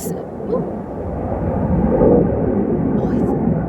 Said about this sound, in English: the plane is so far away, and yet it makes such a loud noise